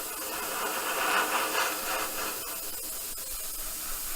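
Airbrush spraying paint onto a 1/24 scale Airfix Spitfire Mk.IXc model kit, a soft continuous airy hiss that swells slightly midway and holds steady, close and fairly quiet, with no talk.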